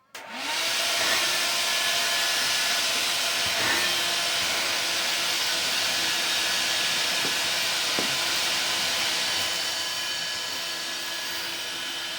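A Ryobi 6-gallon cordless wet/dry shop vacuum motor whirs steadily at close range, a broad airy roar with a faint tonal whine, running without pause after a brief start.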